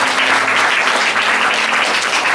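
Loud, sustained applause from a church congregation praising God during a sermon, a thick continuous wash of clapping hands with no pauses or talk.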